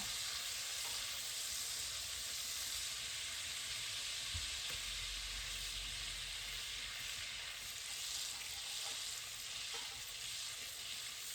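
Garlic cloves frying gently in a pan on low heat give off a steady, soft sizzle that carries evenly from start to finish, with no voices over it.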